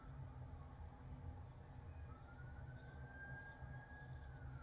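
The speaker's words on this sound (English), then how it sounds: "And excuse the siren." An emergency vehicle siren passes outside, heard faintly through the walls as a thin, rising wail. It sits over a steady low indoor rumble.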